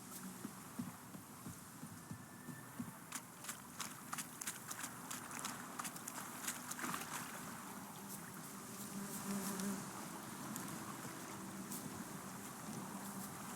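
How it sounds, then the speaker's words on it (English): Bees buzzing in the Witcher 3 video game, a faint, continuous insect drone beneath a run of soft rhythmic taps like hooves or footsteps, with no voices. "Bees."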